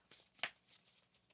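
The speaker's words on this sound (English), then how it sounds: "One more shuffle." Tarot cards being shuffled, a few soft riffling and flicking bursts close by, faint and brief with quiet gaps between them.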